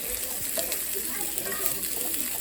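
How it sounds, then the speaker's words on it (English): Mushrooms, onions and garlic sizzle in a pan as they are sautéed, giving a steady, close frying hiss with faint stirring noises throughout. "Sauteing these vegetables, see? This is mushrooms, onions, and garlic."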